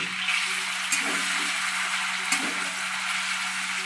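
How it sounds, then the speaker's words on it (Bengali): Paneer pieces frying in hot oil for a vegetarian paneer dish, a steady close sizzle with a soft crackle throughout and no talking. "এবার আমি বাকিগুলো এই একই প্রসেসে আমি"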